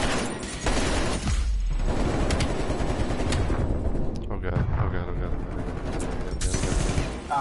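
Rapid video game gunfire crackles throughout a first-person shooter match, loud and dense with bursts that overlap, while players talk over it.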